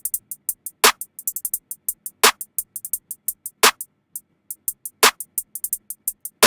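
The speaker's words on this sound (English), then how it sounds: "And then I added this snare, just doing the same as the clap," A layered snare and clap hit together in a hip hop drum pattern, with sharp cracks landing regularly about every 1.4 seconds over a busy, ticking run of hi-hats, played alone and clearly.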